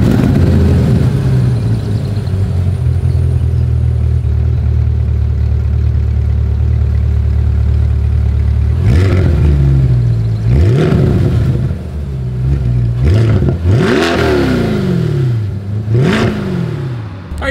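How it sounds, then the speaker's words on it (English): A 2022 Chevrolet Corvette Convertible idles with a deep steady exhaust rumble, then revs sharply several times in quick bursts, each climbing and falling back, loud and close. "As always, here is that exhaust clip"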